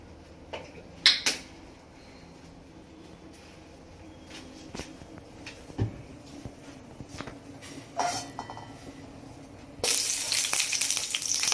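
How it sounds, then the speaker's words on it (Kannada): Scattered clinks and taps of utensils, then near the end a sudden loud sizzle as tempering spices hit hot oil and keep crackling. "ಸ್ವಲ್ಪ ಒಗ್ಗರಣೆ ಹಾಕೊಂಡ್ತೀನಿ ಇದನ್ನ."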